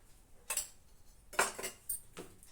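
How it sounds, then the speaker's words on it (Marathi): A spoon adds ghee to a besan laddu mixture, a few scattered clinks and scrapes of metal against a bowl with quiet gaps between them and no talk. "आता याच्यामध्ये मी दोन चमचे तूप अजून टाकून घेते"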